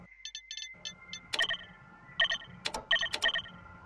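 A telephone rings faintly in repeated electronic trills, several short bursts spread over a few seconds beneath a low background hum.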